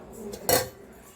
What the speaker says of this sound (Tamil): இப்போ நம்ம லாஸ்ட்டாக எடுத்து வச்சுருக்கிற முந்திரி திராட்சையை இதோட சேர்த்துக்கலாம்